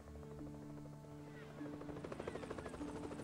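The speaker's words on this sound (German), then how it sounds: "Da hört man schon den Hubschrauber." In the video game Evil Genius, a helicopter arrives with a low engine hum that swells into a rapid, pulsing rotor chop, fairly faint beneath game music.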